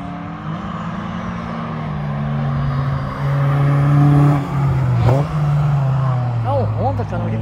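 A Honda Prelude drives around a race track, its engine droning and rising in pitch as it accelerates, heard fairly loud from nearby while people talk over it.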